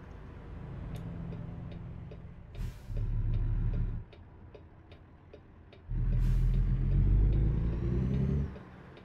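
A Peterbilt 579 NextGen truck in American Truck Simulator has an engine that surges loudly in two long bursts separated by quieter idle stretches, with a steady ticking running throughout.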